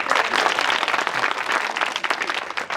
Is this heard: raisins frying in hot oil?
no